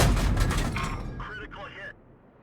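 A T92 tank's gun fires in a tank video game: a single loud, broad boom that rolls off and decays over a second or two, with a short bit of voice just after.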